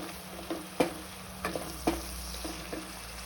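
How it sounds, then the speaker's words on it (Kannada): Halved green chillies and a spice paste frying in a pan for chilli chicken, a soft steady sizzle with occasional clunks of a spoon stirring against the pan, fairly quiet, no talking. "ಎಲ್ಲ ಕಡೆ ಚೆನ್ನಾಗಿ ಫ್ರೈ ಆಗಬೇಕು ಹಸಿ ಮೆಣಸಿನ್ಕಾಯಿ ಎಲ್ಲ."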